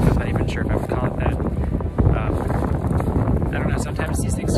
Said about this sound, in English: It's just too windy, the water's really choppy